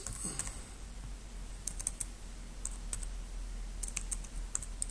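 Keys on a computer keyboard tapped in uneven short bursts while a name is entered into a Kodi media-center dialog, close and fairly quiet over a steady low hum, with no talking.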